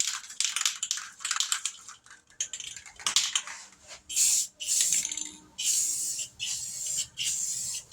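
Rust-Oleum spray paint hissing onto a 2005–2009 Ford Mustang headlight, close bursts of spray, short at first and then longer steady passes with brief pauses between them.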